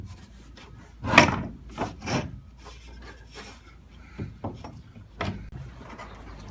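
Wood is ground on a wooden boat frame being tabbed to the hull, giving several rough rasping strokes in short irregular bursts, close and moderately loud, separated by quiet pauses.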